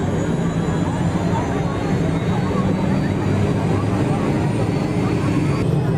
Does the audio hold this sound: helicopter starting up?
yes